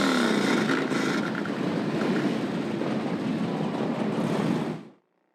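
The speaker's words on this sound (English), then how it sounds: "The 22nd Motorcycle Ride for Dad campaign was held at Superior Inn this morning and was kicked off by participants starting up their engines" Many motorcycles start up together outside Superior Inn in Thunder Bay to launch the Motorcycle Ride for Dad charity ride, a loud, steady wall of engine roar that holds for several seconds before cutting off abruptly.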